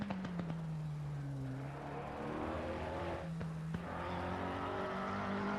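A race car laps Silverstone in Assetto Corsa Competizione during a six-hour endurance event, its engine note rising and falling sharply through gear changes and corners with brief downshift pops, a loud, continuous whine.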